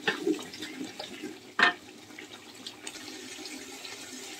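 Dried plums (alu bokhara) rinsed under running water in a kitchen, a soft trickle of water with a brief louder splash in the middle, fairly faint.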